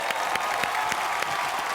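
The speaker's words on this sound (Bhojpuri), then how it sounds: "मनोज तिवारी जी के लिए जोरदार तालियां।" Audience applause for Manoj Tiwari at the Dishum IBFA 2018 Bhojpuri awards show in Malaysia, a steady wash of clapping from a large crowd that stays loud and even throughout, with no talk over it.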